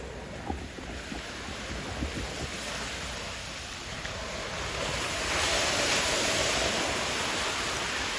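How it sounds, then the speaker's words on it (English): Ocean surf washes steadily onto the beach at Coney Island, New York City, with wind rushing across the microphone, the roar swelling louder toward the end. "The sound of the waves relaxing."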